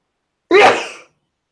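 A single loud, close sneeze, a sharp explosive burst that trails off quickly, with silence before and after.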